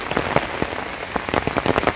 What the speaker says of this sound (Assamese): এইফালে চাওক তামাম বৰষুণ দি আছে একদম